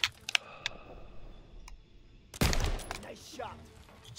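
Gunfire in the Call of Duty WWII video game, with a few faint, scattered shots first, then a loud burst of rapid fire at close range that carries on to the end.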